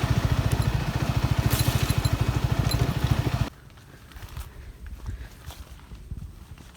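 A motorbike rides along a path through forest, its engine thrumming in a fast steady pulse up close for a few seconds before dropping off abruptly to a quieter, irregular rumble.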